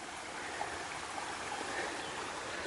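Steady broadband rush of the Crna river flowing in the Mariovo countryside of Macedonia, a continuous close stream with no pauses and no voices.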